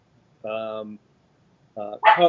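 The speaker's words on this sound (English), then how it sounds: "Sorry, my dogs." Dogs bark indoors in two short, loud bursts separated by a brief pause, the second one sharper and more strained, with no talking over them.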